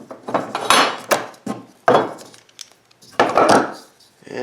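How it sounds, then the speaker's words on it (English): Hand clamps are loosened and pulled off a finished wooden box, giving a series of close wooden knocks, scrapes and clatters in uneven bursts with short pauses between. "Unclamp it."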